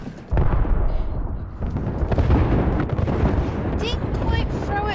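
An artillery strike in Apex Legends: a sudden heavy blast erupts after a brief lull, then a sustained barrage of rumbling booms and crackling impacts follows, with whistling, warbling tones rising near the end.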